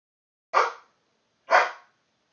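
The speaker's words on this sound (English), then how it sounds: "I apologize for the barking." Two loud, close dog barks about a second apart from a dog in training, each a short sharp burst, with silence around them and no talking.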